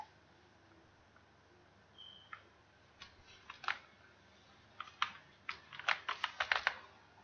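Keys tapping on a computer keyboard while entering a bill into an Excel sheet, sparse clicks at first building into a quick close burst of keystrokes near the end, against a faint quiet background.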